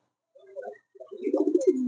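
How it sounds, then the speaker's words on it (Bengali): King pigeons give soft cooing calls, a short phrase, a pause, then a louder run of throaty coos close by with no talk over them. "দেখতেই পাচ্ছেন একদম ফুল রানিং কবুতর"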